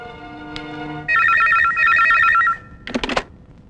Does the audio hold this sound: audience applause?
no